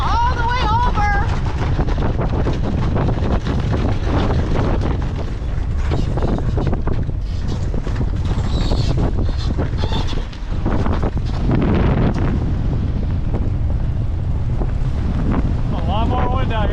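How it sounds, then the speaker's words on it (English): Strong ocean wind roars over a sailing boat, a loud, constant rush buffeting the microphone throughout with little variation, the sea and rigging lost beneath it. "A lot more wind out here than I thought we were going to get."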